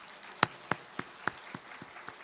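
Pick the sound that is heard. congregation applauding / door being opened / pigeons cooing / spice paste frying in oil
congregation applauding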